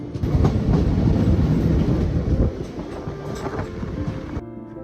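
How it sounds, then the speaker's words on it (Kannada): A passenger train runs on the Bangalore to Pondicherry route after leaving Jolarpettai. A loud, close, continuous rumble with rhythmic wheel clatter fills the clip, then eases slightly near the end. "ಫೈನಲಿ ಈಗ ನಮ್ಮ ಟ್ರೈನು ಜೋಲಾರ್ಪೇಟೆಯಿಂದ ಡಿಪಾರ್ಚರ್ ಆಗೋಯ್ತು"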